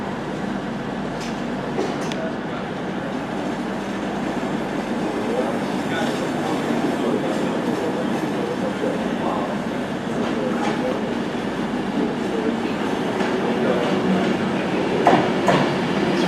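A Virgin Pendolino electric train pulls into a station on the line to Glasgow Central, its steady rumble and wheel clatter building gradually, with occasional sharp squeals and clicks from the track, heard close and continuous throughout.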